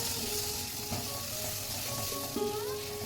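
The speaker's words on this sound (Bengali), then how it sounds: "লবণ আর হলুদ গুঁড়ো দিয়ে কুলগুলো ভালো করে ভাজা হয়ে গেছে" Ripe jujube (kul) frying in a pan with salt and turmeric powder, a soft continuous sizzle with a few light stirring scrapes, close and without talk.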